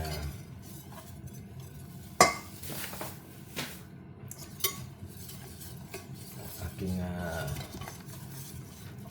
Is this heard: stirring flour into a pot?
yes